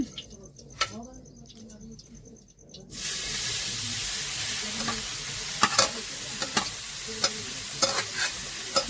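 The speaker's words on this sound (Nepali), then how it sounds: "त्यसपछि अब मैले यसमा गाजर राख्छु।" Carrots hit hot ghee in a pan and a loud, constant frying hiss takes over from a quieter start, with repeated spoon scrapes and clinks as they are stirred close by.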